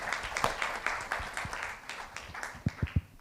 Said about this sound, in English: Huge round of applause for Commander Saini again.